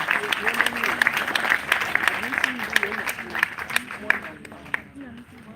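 An audience at a school ceremony claps to welcome a keynote speaker. The crisp, sustained applause carries a voice over it, then thins out toward the end.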